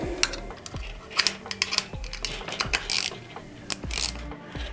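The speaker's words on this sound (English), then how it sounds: "Then we take our 10mm socket on our extension, and we're going to do that one up." A 10mm socket ratchet on an extension tightens an M6 nylock nut while fitting a tail tidy on a 2024 CFMOTO 450MT, giving quick repeated ratcheting clicks in short strokes, close and fairly quiet.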